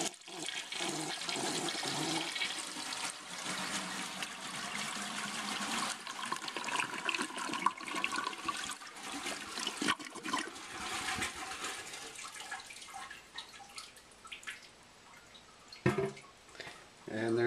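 A black 1988 American Standard Cadet toilet flushes with a loud, close rush and swirl of water that tapers into trickling refill and dripping, with people talking over it.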